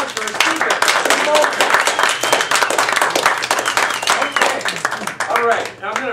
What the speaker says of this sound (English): let's have another round of applause for our speaker.